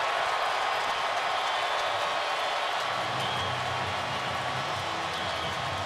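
NFL stadium crowd at a Kansas City Chiefs home game, a dense, loud roar of cheering that stays constant throughout, with no distinct voices.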